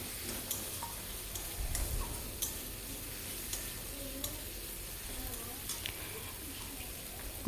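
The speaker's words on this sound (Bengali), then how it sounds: "এবার ভালো করে এটাকে কষিয়ে নেব মশলাগুলোকে, যতক্ষণ না তেল থেকে মানে মশলা থেকে তেলগুলো ছাড়ছে আর কি" Spice masala frying in oil for a prawn curry, a soft low sizzle with faint, scattered ticks and scrapes of stirring, quiet and close with no talking.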